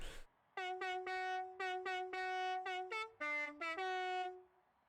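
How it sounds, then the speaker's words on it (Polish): A musical car horn plays the Jingle Bells tune in Forza Horizon 5. It sounds as a loud, clear run of tonal honks in the song's rhythm, with short notes first and longer held tones at the end. "Może klaksony muzyczne? Tak, jest, tutaj, Jingle Bells."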